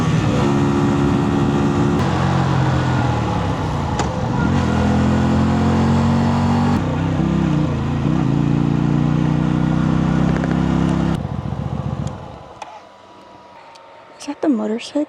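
A 125cc cruiser motorcycle engine runs loud and near for about eleven seconds, its steady throb shifting with throttle, before cutting off and leaving quieter sounds with brief speech.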